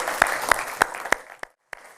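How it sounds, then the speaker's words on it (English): Scattered applause from a small workshop audience for a panel on sustainable investing, a handful of separate claps in a slow rhythm that thins out and stops near the end. "Give them a round of applause"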